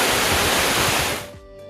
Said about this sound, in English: The roar of the water can be heard long before you see it.